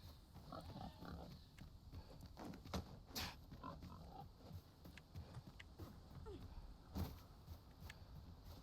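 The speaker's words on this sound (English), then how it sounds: "I hear you, piggy." A pig in the video game Dragon's Dogma grunts and snorts in scattered short bursts, faint, with occasional sharp clicks and thumps in between.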